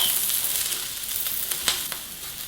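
Philly cheese steak ingredients fry in a pan with a steady, close, hissing sizzle and a few faint pops and crackles, with no voices.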